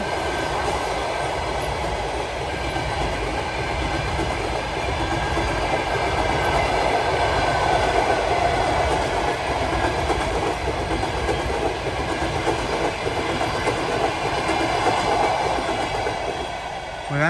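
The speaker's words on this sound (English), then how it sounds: "That's the new train." A new train rolls past close by near the former Janowska concentration camp site in Lviv, with a steady, continuous rumble and rhythmic wheel clatter, loud and sustained throughout with no talk over it.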